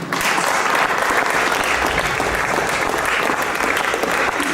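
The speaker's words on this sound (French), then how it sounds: "Je vous demande de l'applaudir." An audience applauds accordionist Marc Adier at the Trophée National de l'accordéon, a dense, steady wash of clapping from a crowd held at even loudness for several seconds.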